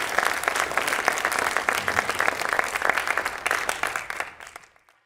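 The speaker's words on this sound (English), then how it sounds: "Let's have another big round of applause for her." Audience applause after a solo Odissi dance performance, dense and sustained clapping for about four seconds that then fades quickly to silence.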